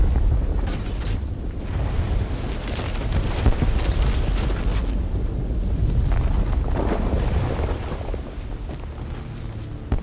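Explosion of a toxin bomb in the Batman Arkham Knight video game, heard as a long loud rolling roar with deep rumble and crackling debris that sustains for seconds before easing off slightly.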